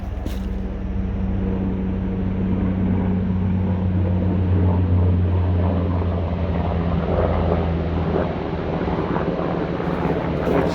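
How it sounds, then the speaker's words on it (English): A helicopter flies over a lakeside hiking trail, giving a steady low droning rumble that swells slightly in the middle and holds throughout, with no talking. "Here's a helicopter."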